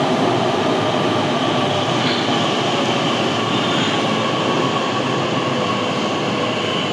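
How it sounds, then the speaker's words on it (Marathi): Pune Metro train on the Purple Line pulling out of the station, a steady loud rumble and rail hiss filling the whole stretch with faint wheel squeal, no voices. "आता ही परत रिटर्न जाण्यासाठी मेट्रो लागली बघा."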